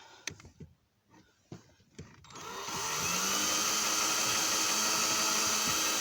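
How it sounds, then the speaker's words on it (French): A drill bores holes in an aluminium pedal being fitted to a Citroen C4 1.6 HDi: a few scattered taps and knocks give way to a steady, whirring motor drone that holds loud and close to the end. "me reste juste l'autre en haut à percer"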